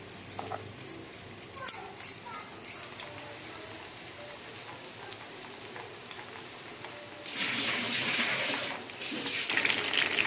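Mushrooms boil in a pot of water, a continuous fizzing bubble that swells noticeably louder toward the end, with a voice talking faintly over the cooking.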